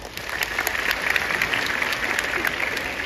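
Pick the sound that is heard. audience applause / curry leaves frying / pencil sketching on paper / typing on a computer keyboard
audience applause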